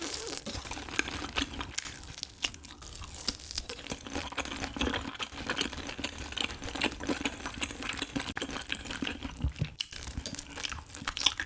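Marinated Korean beef ribs (galbi, LA-style) are chewed close to the mic, soft wet bites and crunchy chomps repeating irregularly over a quiet background.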